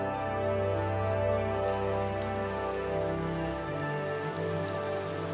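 Steady rain falls in the Scottish Highlands, a dense continuous patter of drops on surfaces, close and even throughout with no voices.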